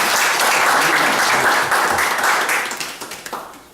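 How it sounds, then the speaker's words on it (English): A congregation at a feast-day religious service bursts into loud, full applause that holds steady, then tapers into a few scattered final claps. "Let's give him a hand clap."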